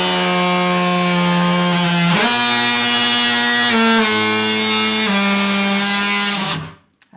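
A DeWalt power tool with a flexible blade reshapes a plywood kitchen counter freehand, giving a loud, steady motor whine that shifts pitch a few times as the cut bears down, then cuts off abruptly near the end.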